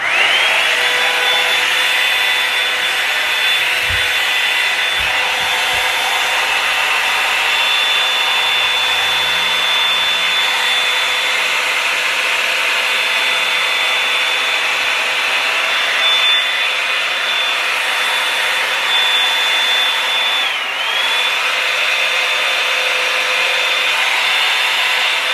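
A Revlon One Step Volumiser hair dryer blows continuously while styling hair, a loud, steady airy whine held close with a faint pitch dip near the end and no talking.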